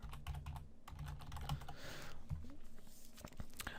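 Fingers type code on a computer keyboard with quick, quiet clicking keystrokes in an irregular rhythm, close and soft.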